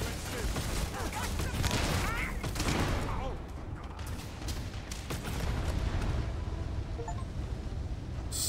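Explosive shotgun blasts ring out in a Starfield firefight, several booming shots amid clattering mechanical noise and a dense background of battle sounds.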